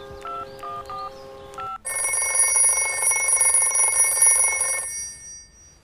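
A mobile phone rings with an unwanted spam call in a crime TV drama. A short melodic ringtone plays first, then a sustained electronic ring that stops after about three seconds. No talk over it.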